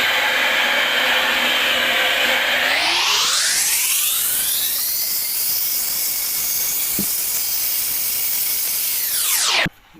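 A heat gun or hair dryer blows loudly and steadily while heating a shower enclosure drain, its whine rising in pitch as it speeds up, holding high, then cutting off abruptly.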